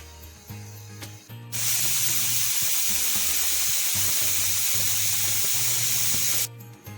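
Pressure cooker cooking mutton releases a loud, steady hiss of escaping steam for several seconds close by, starting and stopping abruptly over a low background hum.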